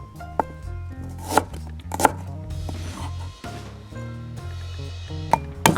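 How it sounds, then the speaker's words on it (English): Ginger cut into chunks with a knife on a board, giving several sharp chopping knocks at irregular intervals with quieter handling sounds between, close and alone. "Cut the ginger into chunks."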